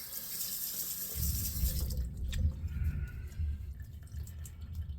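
Razor rinsed under a running tap, a steady close splash of flowing water into the sink with a few drips and clinks, no voices heard.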